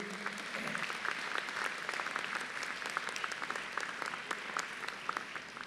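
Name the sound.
applause for graduates' family members and friends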